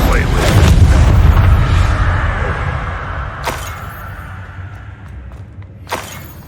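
Bombarda spell blasts in the video game Hogwarts Legacy, a heavy booming explosion with rumbling low end that decays over a few seconds, then two sharper impact cracks, with a voice shouting the spell name over it.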